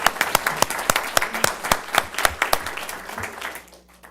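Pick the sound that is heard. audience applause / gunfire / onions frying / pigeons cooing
audience applause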